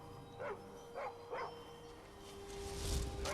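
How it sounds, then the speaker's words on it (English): A dog in Skyrim gives three short, spaced barks at moderate distance, followed by a swelling rumble of game ambience. "For whatever reason, the dog decided to attack me before."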